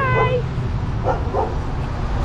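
Dogs at a thrift store giving short yips and whimpering barks mixed with a person's voice calling to them, a few quick sounds over a steady background hum.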